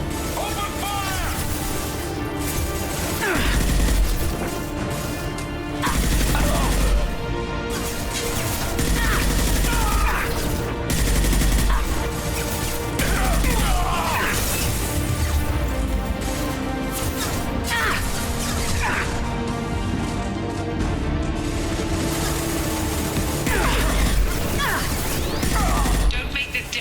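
Loud, dense Mass Effect 2 battle: overlapping gunfire and crashing impacts play almost continuously under a layer of game music, with bursts that swell and fade. Shouted combat voices mix into the din.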